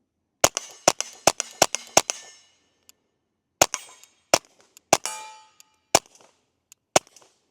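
A suppressed Ruger Mark IV 22/45 Lite pistol fires a fast string of five sharp cracks, then after a pause several more spaced shots, each crisp and close with a brief ringing tail.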